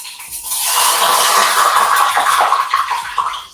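Water hitting a hot wok while noodles are cooked, giving a loud, continuous broadband sizzle and hiss that swells and holds for several seconds, then breaks into crackling spits near the end.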